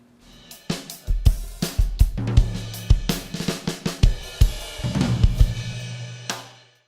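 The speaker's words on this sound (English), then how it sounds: "the drums sound like this" A drum kit close-miked with clip-on microphones plays a punchy groove of loud kick and snare hits and cymbal crashes, with tom fills toward the end, heard alone.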